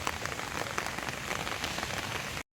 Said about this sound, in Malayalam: മഴയുടെ കൂടെ ഞങ്ങൾ എടുക്കാൻ ഇറങ്ങിയ വീഡിയോ